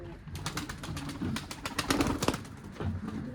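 Pigeons coo softly and flutter in an enclosed space, with a constant low murmur of cooing and rapid wingbeats near the microphone.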